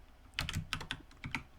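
Keystrokes on a computer keyboard while entering a name into a Windows setup field, a few quick bursts of close clicking clustered in short groups, no talking.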